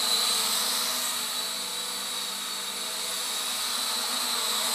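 A P12 Pro toy drone hovers nearby, its propellers giving a steady high-pitched buzz that stays even in loudness throughout, with no talk.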